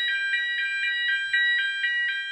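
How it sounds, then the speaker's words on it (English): A fire alarm rings indoors in a steady pulsing pattern, loud bright electronic beeps repeating about four times a second with no voices. "Fire alarm?"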